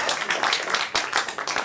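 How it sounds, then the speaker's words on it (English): A crowd at an improv comedy show breaks into lively applause, a dense, loud burst of many hands clapping close by, rising and dipping in waves. "Round of applause."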